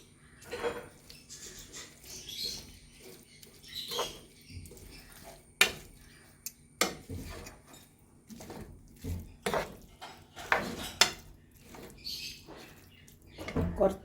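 A spoon scrapes and clinks against a metal pan while ginger, garlic and green chilli are stirred for beef pickle, giving irregular close scraping strokes and sharp taps amid quiet pauses.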